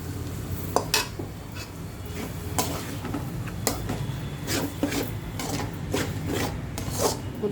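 Spatula scraping and stirring beaten egg with vegetables in a pan, a steady rasping rub with repeated sharper scrapes and clinks throughout, close and moderately loud with no talk.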